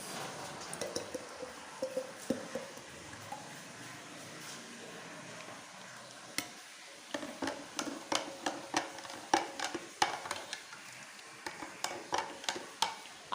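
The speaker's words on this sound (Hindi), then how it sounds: "अब इसको महा इसमें डाल के मिक्स करेंगी" A spoon stirs a strawberry mixture into milk for a milkshake, giving a run of soft clinks and sloshing taps against the container, sparse at first and then quicker and more regular, close up with no speech.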